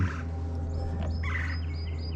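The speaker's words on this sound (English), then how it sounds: "don't know what kind of bird that is" An unidentified bird calls outdoors at a construction site, a gobbling, fowl-like call repeated several times over a steady low hum.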